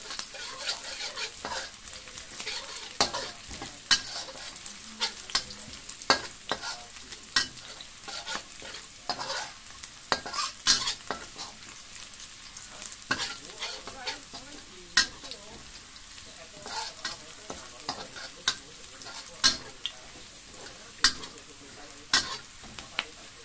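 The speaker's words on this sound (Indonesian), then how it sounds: "Aduk dulu sampai dia benar-benar matang." Ingredients sizzle and fry in a pan while being stirred until fully cooked for a tamarind mackerel soup, a continuous crackling hiss broken by irregular scraping clicks of the utensil against the pan, close and steady.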